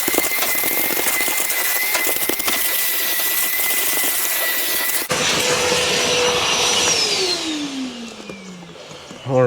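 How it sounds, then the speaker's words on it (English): A vacuum cleaner cleans a car's interior with a loud, close, roaring motor hum. Partway through the tone shifts, then the motor whine slides downward as it winds down near the end. "the first thing we're going to do is start off with a good vacuum"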